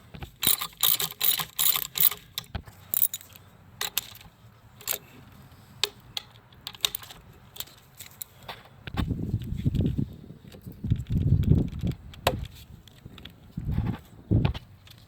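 A ratchet tightens 10 mm bolts on a 2013-2016 Ford Escape with a 1.6L turbo engine, with rapid clicking runs near the start, then scattered clicks and duller thuds and clunks of handling nearby.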